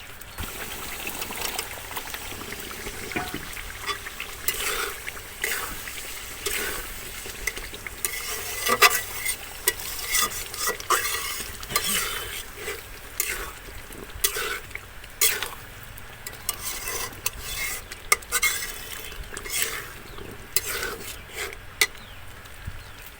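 Beef liver being stirred and fried in spice paste, with irregular scraping and rubbing strokes of a spoon in the pot over a soft wet sizzle, close and moderately quiet.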